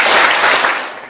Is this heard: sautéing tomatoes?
no